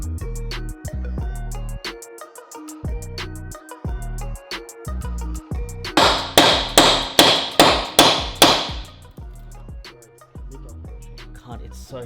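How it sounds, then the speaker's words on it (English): Hammer blows drive a chisel against a cut Honda DC2 engine mount during a K-series swap, about eight sharp metallic strikes in an even rhythm, loud and close over a steady music beat. "I'm gonna need a hammer and a chisel"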